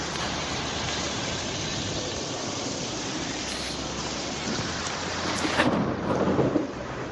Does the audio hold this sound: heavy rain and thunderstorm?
yes